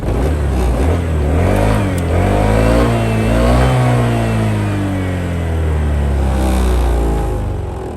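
Honda PCX150 scooter engine, white and second-hand, revving steadily while its idling stop system is tested, the motor note rising and falling without a break and staying loud and close throughout.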